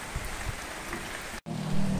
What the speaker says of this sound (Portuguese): já foi uma meia hora já que tá chovendo assim